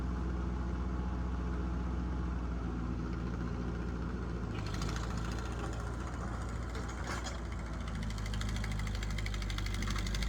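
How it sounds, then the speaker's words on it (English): A Ford 8N tractor engine runs steadily while plowing a small garden, a close, continuous low rumble with a firm idle-like throb that roughens and strains around the middle as a rear wheel spins and digs in. "the tractor has plenty of power"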